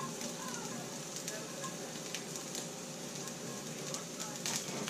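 Crumbled ingredients for a vegan Chinese noodles and veggies dish sizzling in a pan, a steady close crackling hiss with faint talk in the background.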